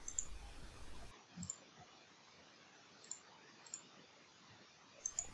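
A computer mouse clicks faintly and alone, with a handful of crisp, evenly spaced clicks over quiet background hiss.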